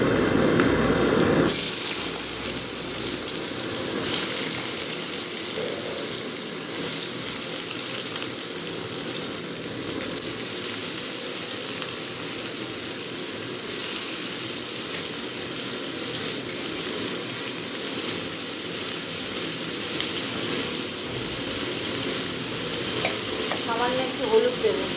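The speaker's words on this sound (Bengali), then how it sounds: "তেল গরম হয়ে গেছে। এবার আমি দিয়ে দেবো, আলুগুলো দিয়ে দেবো।" Potatoes dropped into hot oil burst into a loud, close sizzle with a sharp onset and then a steady hissing fry with light stirring, and no voice.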